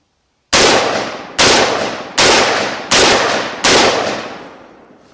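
Five sharp rifle shots from an AR-type rifle fitted with a Bear Creek Arsenal dual charging upper crack out loud and close at an even pace, each one ringing down in a short echo.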